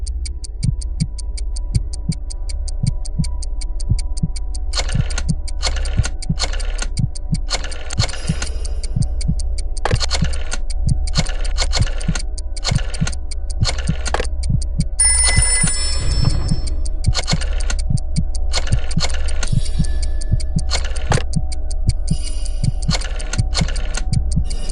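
A rotary phone in a PlayStation 4 video game, with repeated sharp, evenly spaced ticking clicks of dialing and a brief ringing burst partway through, loud and steady over a constant low hum, with no talking.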